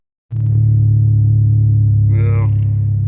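Heavy truck engine rumbling inside the cab: a loud, steady low drone that holds for the whole stretch, with a brief voice-like sound rising over it near the end.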